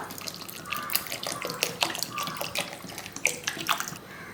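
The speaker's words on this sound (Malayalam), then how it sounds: "ഇനി വെള്ളം ഒഴിച്ചു കൊടുക്കാം" Water poured from a vessel onto cooked rice with salt for traditional Kerala pazham kanji, a steady splashing pour with sloshing bursts, close and moderately loud throughout.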